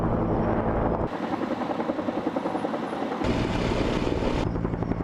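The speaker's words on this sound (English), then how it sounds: "We counted at least 6 different choppers continuously dumping water" A steady firefighting helicopter roar with rapid rotor chopping, loud and continuous, the tone shifting as it passes overhead during water drops.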